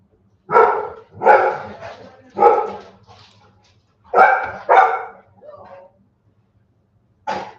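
A dog barks several times, loud and nearby, in uneven bursts with short pauses between them and one last bark after a gap.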